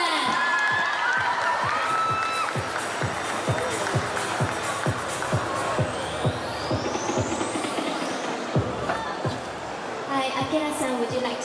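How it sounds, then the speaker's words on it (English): An excited crowd at a fan event in Singapore claps and cheers loudly, with shouts and whoops mixed into the rhythmic clapping and an announcer-like voice speaking over the noise. "Put your hands together, clap and cheer for Akira-san."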